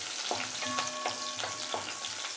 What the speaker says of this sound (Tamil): சின்ன வெங்காயத்தை போட்டு வதக்கலாம்